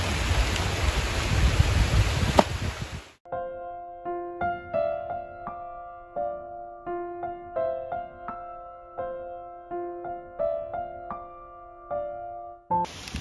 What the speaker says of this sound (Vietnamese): mưa quá hôm nay đi câu mưa quá